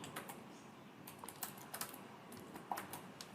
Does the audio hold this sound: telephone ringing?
no